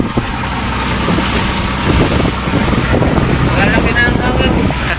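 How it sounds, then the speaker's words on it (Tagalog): Strong wind buffets a fishing boat out on the Pacific Ocean in rough, whitecapped seas, a steady loud roar of wind and water with engine rumble underneath and someone talking over it throughout. "medyo malakas-lakas na rin yung hangin"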